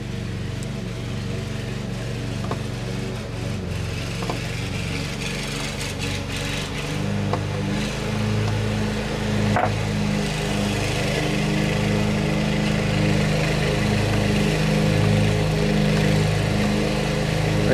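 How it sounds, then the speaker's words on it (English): A lawnmower drones steadily in the background, its engine hum rising and falling slightly over the whole stretch. "Sorry about the lawnmower in the background."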